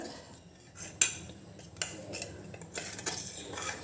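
A spoon mixing risen batter with sautéed vegetables in a bowl for rice-flour roti, with one sharp metallic clink followed by softer scrapes and taps, close but quiet.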